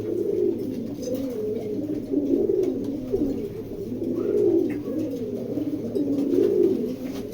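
Racing pigeons coo in a steady, overlapping murmur of low, rolling calls that continue throughout, close by and fairly loud.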